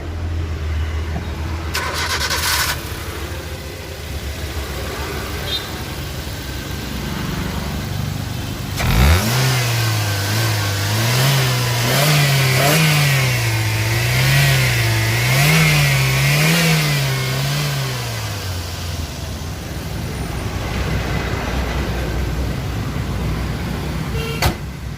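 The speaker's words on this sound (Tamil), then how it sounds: "வண்டியோட என்ஜின் கண்டிஷன் எல்லாமே உங்களுக்கு இப்போவே ஸ்டார்ட் பண்ணி காமிச்சாங்க" A Maruti Suzuki Ritz LXi petrol car cranks and starts up nearby, then its engine revs in several rising and falling bursts before settling back to a steady idle, with no talking over it.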